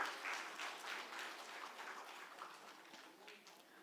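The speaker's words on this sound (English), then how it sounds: "Please give them a big round of applause" Audience applause at an engineering seminar, a steady wash of many hands clapping at moderate distance, sustained and fairly even throughout without a clear break.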